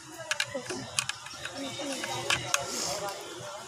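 Close, irregular clicks, clacks and light plastic creaks as the cover of an electrical switch board fitted with a switch and 2-pin and 5-pin sockets is unscrewed and opened, with some handling rustle between the sharper snaps.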